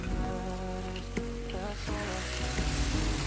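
Hot oil bubbling and crackling in a small wok before tempeh goes in, a steady close sizzle with a wooden spatula stirring through it, while some music plays underneath.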